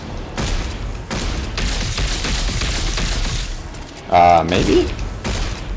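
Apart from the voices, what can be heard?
gunfire in the video game Dead Space 3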